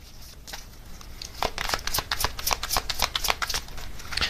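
Tarot cards are flipped and drawn from a deck in a quiet room, a close run of crisp, rapid papery snaps and slides that gets busier after the first second.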